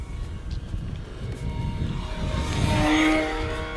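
An E-Flite Decathlon RC airplane on a 4S battery flies past on its maiden flight, its electric motor whining steadily at mid distance and swelling louder near the end over a broad rushing roar.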